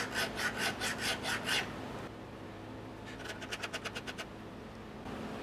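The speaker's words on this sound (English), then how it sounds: "So I'm gonna try to sand this with my file, just on an angle," A hand file rasps at an angle across a burr on a mini lathe part in two bursts of quick back-and-forth strokes, the first slower and louder, the second faster and lighter, close up with a quiet pause between.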